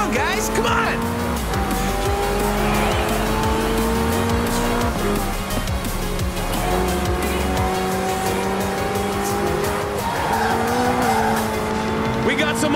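Race cars and trucks from the Forza Horizon video game roar past with engines revving and tires squealing, loud and continuous throughout, with crowd-like noise and talk faintly underneath.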